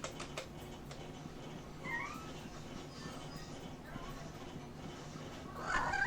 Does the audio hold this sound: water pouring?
no